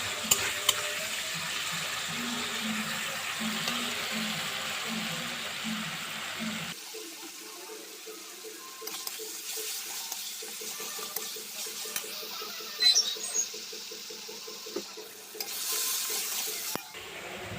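Spice paste being stirred and fried in a pan for an egg dish, with soft sizzling and scraping strokes of a spoon, then a sharper rhythmic scraping and sputtering, close up with no talk.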